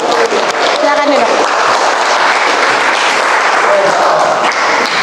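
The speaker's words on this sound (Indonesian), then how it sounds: "Berikan tepuk tangan untuk temannya yang sudah berani maju." Applause from a classroom audience, steady and loud, filling the space continuously, with voices mixed in.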